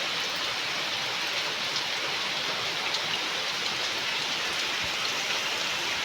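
Heavy rain pours steadily in the dark at night, a dense, even hiss of countless drops drumming on surfaces, close and loud with no pauses and no voices.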